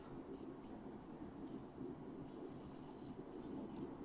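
Pen or marker writing notes during an electrical engineering lecture, a faint continuous scratching with short squeaky strokes, heard alone in a quiet room.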